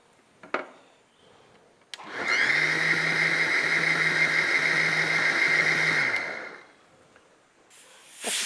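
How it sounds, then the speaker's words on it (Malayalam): A pressure cooker lets out its first whistle while beef dry fry cooks: a steady, loud hissing whistle that holds for about four seconds, then fades away in a quiet kitchen. "ഫസ്റ്റ് വിസിലാണ് കേട്ടോ അപ്പോൾ വന്നിരിക്കുന്നത് പ്രഷർ കുക്കറിൽ"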